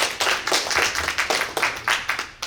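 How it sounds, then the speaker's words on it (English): Audience at a panel conversation on racial reconciliation gives a round of applause, heard as a close, crisp patter of individual claps in a quick rhythm with a few hands standing out. "So I think they deserve a round of applause too."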